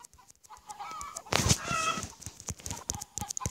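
Cartoonish chicken clucks and squawks from the mobile farming game Egg Inc., brief bursts scattered through the stretch with tapping clicks and a clucking flurry near the middle, fairly close and moderately loud.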